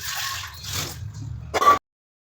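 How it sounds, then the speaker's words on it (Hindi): Water runs and splashes over dishes being washed at a sink after tea, close and moderately loud, with a short harder gush before it stops abruptly. "तो चाय पीने के बाद जो भी बर्तन हुए थे, तो उन्हें मैं अभी साफ़ कर रही हूँ।"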